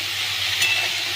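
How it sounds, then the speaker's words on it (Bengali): Snake gourd and potato pieces frying in a pan give off a continuous close hiss and sizzle, even and unbroken, with no talking. "এবার আমি চিচিঙ্গেগুলো ছেড়ে দিলাম"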